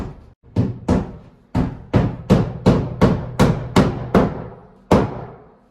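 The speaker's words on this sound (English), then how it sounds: "And then I'll hammer in my drywall anchors" About a dozen sharp hammer blows drive drywall anchors into a bathroom wall one after another at a steady pace, close and loud, each followed by a short decaying ring.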